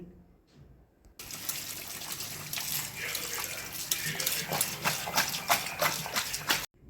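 Cut jackfruit pieces being washed by hand in a basin of water, with steady sloshing and splashing that starts abruptly and continues close up for several seconds.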